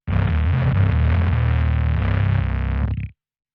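Bass guitar through a Plasma Gamechanger distortion pedal at full voltage gives one dense, gritty, crackly note for about three seconds. It is loud and saturated, with a constant fizzing noise over the low tone, then it cuts off abruptly. Nobody talks.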